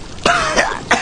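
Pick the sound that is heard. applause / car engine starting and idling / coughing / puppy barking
coughing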